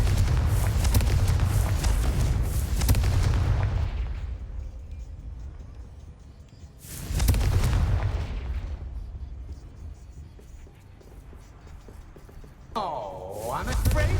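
Hogwarts Legacy's Confringo spell erupts in loud, booming blasts, a long roaring burst at the start and another midway, each decaying slowly, with a shimmering magical sweep near the end.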